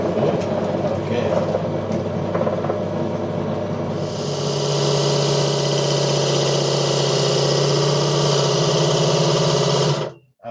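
Wood lathe spinning a chuck, a motor whine that rises to a steady loud hum with a droning tone partway through, then cuts off abruptly at the end.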